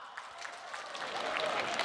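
Young women in a church congregation clap during a Simbang Gabi night Mass homily, producing a soft, scattered patter of applause that swells slightly and sounds distant and faint.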